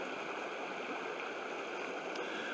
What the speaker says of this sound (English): this creek is really up.